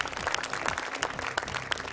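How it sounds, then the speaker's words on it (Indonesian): Applause from the audience at a televised Quran recitation contest, a brief, fairly soft patter of clapping lasting under two seconds. "Boleh sekali lagi kasih tepuk tangan yang meriah untuk Nazila dari Manado."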